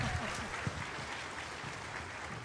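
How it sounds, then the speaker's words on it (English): Steady, dense applause from a large crowd at a gaming convention stage, continuous and fairly loud throughout with no pauses. "Let's keep the applause going"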